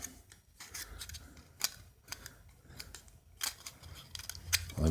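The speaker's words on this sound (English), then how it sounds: "Ironically enough, these are the penny cutters." Penny cutters snip through a thin aluminum can for a penny can stove, giving a series of sharp, close clicking cuts at an irregular pace with brief pauses between snips and no talking.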